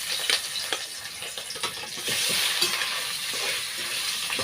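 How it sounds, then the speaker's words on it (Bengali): Fish frying in hot oil in a home kitchen for a spicy fish curry. The steady close sizzle and hiss gets louder partway through, with scattered pops and crackles. "তো চলো একটা একটা করে মাছগুলো ভেজে নিই,"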